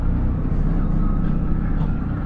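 A Peugeot 103 SP moped's small 50 cc two-stroke engine drones in a steady low buzzing rumble, moderately loud and continuous for a couple of seconds, with no clear talk over it.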